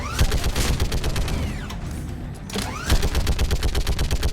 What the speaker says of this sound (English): They simply demand that you have a turret section